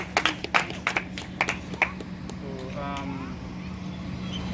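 An audience at a community foundation event claps in a quick burst of separate, distinct claps over the first two seconds, then goes quiet beneath a background hum while someone speaks.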